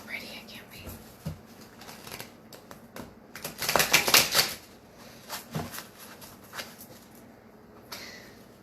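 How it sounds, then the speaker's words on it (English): A deck of tarot cards is shuffled close by, soft rapid riffling and tapping in short bursts, with one louder flurry midway; faint whispered talk surrounds it. "Cards are so beautiful. I kind of hate to shuffle them, to bend them, but I gotta shuffle."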